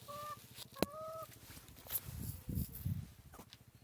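Backyard chickens at a village morning feeding give close, low clucks and a few honking squawks, with a sharp knock and some brief higher calls in between.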